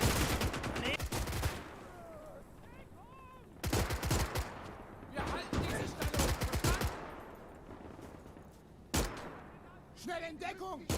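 WW2 battle gunfire in the game Gates of Hell Ostfront, with clusters of sharp rifle and machine-gun shots at moderate distance, separated by quieter stretches, and someone talking between bursts.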